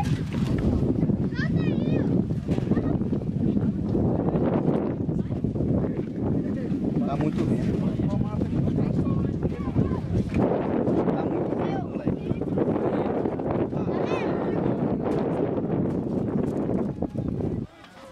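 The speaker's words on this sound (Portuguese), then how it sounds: "Tá muito vento, meu truta." Strong gusts of wind roar and buffet the microphone at a kite festival in Araçatuba, São Paulo, a loud, continuous rumble throughout with people talking underneath.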